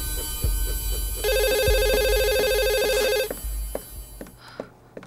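A telephone rings loudly with a bright electronic trill lasting about two seconds, set among room sounds and soft thuds in an indoor drama scene.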